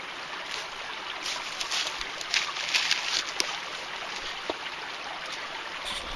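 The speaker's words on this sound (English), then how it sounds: "we're down at the creek here" Creek water runs over rocks in a steady, soft trickling wash, moderately close, with faint splashy flickers on top and no talking.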